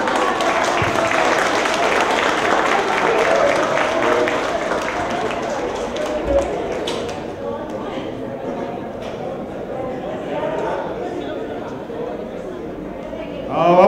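Applause from an audience at an arts performance and closing ceremony, a broad steady patter filling the first half and thinning later, with a person talking over it throughout.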